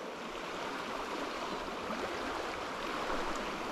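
River current flowing steadily on a trout-fishing stream, a constant broad rushing wash with no breaks, close and fairly loud, no voices.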